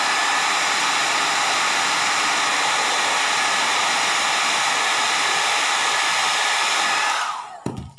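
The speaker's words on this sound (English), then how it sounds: "Then blow dry." A hair dryer blows steadily and loudly at close range while drying decoupage glue on rice paper, a constant rushing whoosh that cuts off near the end.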